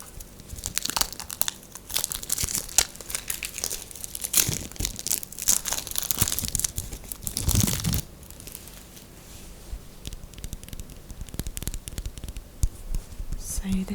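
A soft bar of designer soap shaved with a kitchen vegetable peeler, giving close, crisp scraping and crinkly rasps in repeated strokes, with a pause before the peeling resumes.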